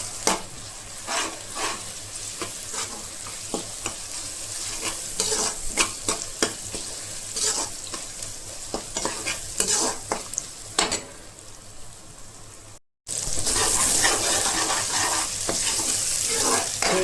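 Ginger-garlic paste and masala for an Andhra chicken curry sizzle in a hot pan, stirred repeatedly with a spoon scraping the metal; the frying hiss stays loud and steady, with a brief cut near the end.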